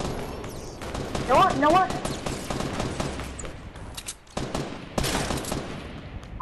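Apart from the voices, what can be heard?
gunfire in the video game Fortnite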